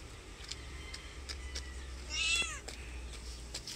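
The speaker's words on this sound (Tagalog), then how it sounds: "Ayan na yung mga pusa ko." A cat meows a couple of times over a low steady background hum, with one louder, drawn-out meow standing out near the middle.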